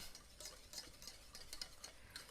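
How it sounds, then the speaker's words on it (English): Vanilla being stirred into freshly cooked custard for a mini skinny banana pudding, a soft spoon scraping and clinking steadily around the pot, faint and close with no talking. "and just stir that in"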